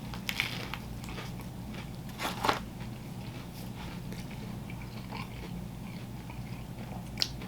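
Someone bites and chews a Friendly's Doritos chopped cheese sandwich on buttered ciabatta with ranch, salsa, Cool Ranch Doritos, peppers and onions, giving a few crunchy bites and soft chewing close up with no speech.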